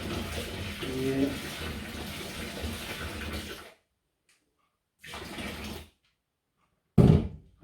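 Water from a kettle pours into a plastic home brew fermenter for a St Peters Golden Ale kit, a steady splashing rush that stops, resumes briefly, and ends with a louder close thud.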